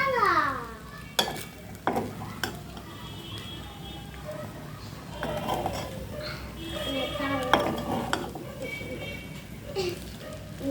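Ramen ingredients stirred in a pan, with a soft sizzle under intermittent scraping and metallic clinks of a utensil against the pan, close by, while a person speaks at times.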